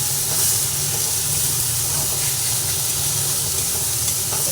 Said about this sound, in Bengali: টমেটো দেওয়ার পরে আবার ভালোভাবে কষিয়ে নিচ্ছি